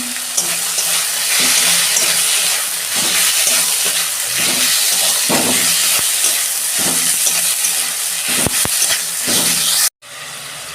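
Chopped tomato goes into a pan already frying garlic paste, setting off a loud, steady sizzle with repeated stirring scrapes close by; the sound cuts out abruptly near the end.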